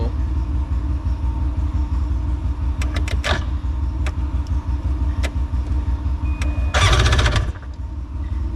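A small jet ski engine cranks over with a few sharp clicks, then briefly catches and roars loudly before settling back into a steady mechanical rumble, close by.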